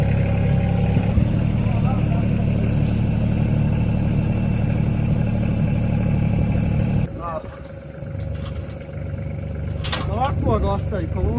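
A tractor's engine runs loud and steady while it pulls a stuck vehicle out with a chain, then drops to a lower idle rumble as people talk nearby.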